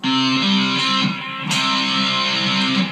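A distorted electric guitar rings out three-note power chords of root, fifth and octave, loud and sustained, with one sharp strike midway that lets the chord ring on.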